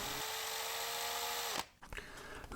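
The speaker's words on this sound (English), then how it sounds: "make sure that the drill is in reverse" A power drill set in reverse with a screw extractor bit whines steadily at close range for about a second and a half, then winds down and stops, leaving quieter handling noise.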